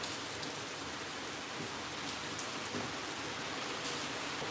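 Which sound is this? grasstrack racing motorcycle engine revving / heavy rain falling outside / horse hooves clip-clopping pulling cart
heavy rain falling outside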